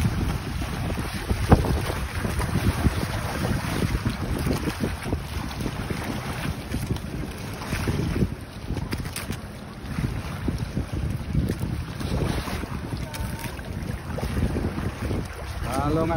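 Boats racing across open sea on a dolphin-watching tour at Lovina, Bali, their motors and hulls churning through water under heavy wind buffeting the microphone, a steady loud rumble with faint voices now and then.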